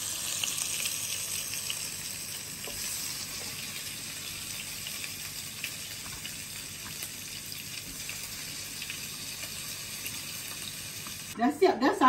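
Fried satay sizzles steadily in a pan, giving a continuous crackling hiss over about twelve seconds, with a louder burst of clattering or stirring near the end.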